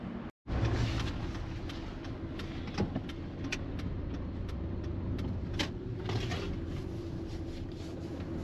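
Green Chevy pickup driving down a rural road, heard from inside the cab as a steady low engine and road rumble after a brief dropout at the start, with faint clicks and rattles over it.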